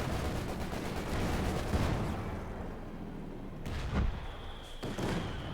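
Tank cannon fire in the strategy game Company of Heroes 2: heavy booming blasts with rumbling explosions over constant battlefield noise, the shots spaced a second or so apart.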